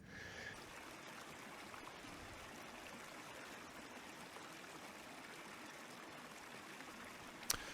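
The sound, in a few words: stream water flowing on Dartmoor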